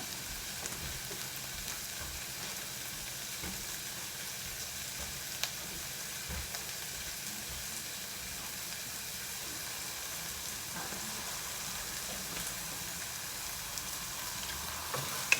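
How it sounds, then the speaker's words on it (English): Onions fry in a pan with a steady, even sizzle and crackle, close and continuous throughout, with a few faint clinks and no talking. "So we have our onions frying."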